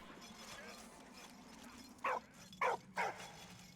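A Red Cross medic dog in the World War I game Valiant Hearts gives three short, sharp barks in quick succession over a low game background hum.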